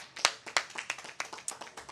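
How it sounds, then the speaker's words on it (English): Scattered clapping from a small, sparse group at an outdoor Labor Day parade, a handful of distinct claps in an irregular rhythm, faint and somewhat distant. "Please give them all a big round of applause."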